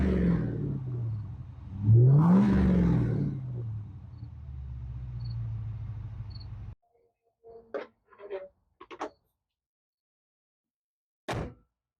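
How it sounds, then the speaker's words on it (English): Stock exhaust on a 2004 Ford Mustang GT with a swapped 5.4L V8: a deep idle rumble with one rising rev near the start. It cuts abruptly to near silence, broken by a few sharp clicks and thunks. "Let me get you a sound of the exhaust. It is stock, but it does sound pretty good."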